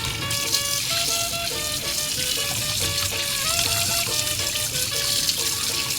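Steady rushing spray of a water jet washing fish, continuous and fairly loud, with a faint tonal whine riding over the splashing.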